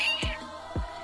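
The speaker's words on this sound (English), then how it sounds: "Yeah, she's a good cat." A house cat named Slippers gives two short, close meows about half a second apart, with a faint whine before the first.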